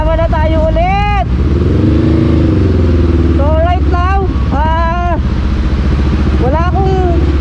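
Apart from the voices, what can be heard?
motorcycle running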